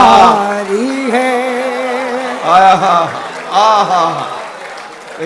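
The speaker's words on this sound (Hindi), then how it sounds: "नहीं, यकीनन तालियां कम बजी" Applause from an Urdu mushaira audience in Kuwait, a fairly thin patter of clapping running steadily beneath a voice that talks over it throughout.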